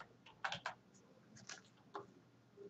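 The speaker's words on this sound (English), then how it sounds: "I type the reset command" A few quiet keystrokes on a computer keyboard typing a reset command, irregular clicks heard alone.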